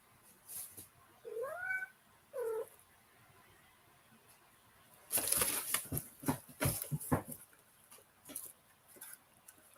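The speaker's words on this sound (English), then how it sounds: "I have a cat climbing into places he shouldn't be." A house cat meows twice in short rising-falling calls, followed by a burst of rustling and tapping as it climbs about nearby.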